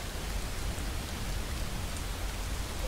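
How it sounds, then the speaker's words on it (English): Cold rain and sleet fall as a dense, unbroken hiss that stays steady and fairly loud throughout, with no voices over it. "Sooner we get out of this cold and wet and sleet."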